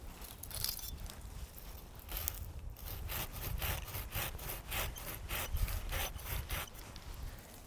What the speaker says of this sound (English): So to make this pruning cut, I've got my handsaw here